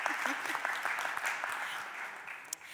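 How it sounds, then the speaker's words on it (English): A Philadelphia City Council chamber applauds the West Philly High basketball team, a steady moderate round of clapping in a large room with some voices mixed in. "Can we get a round of applause for West Philly High?"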